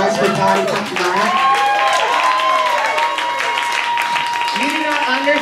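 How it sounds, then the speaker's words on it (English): An audience at a burlesque festival benefit show claps steadily with whoops and cheers mixed in, loud and continuous throughout. "I would like a round of applause for Dottie Riot."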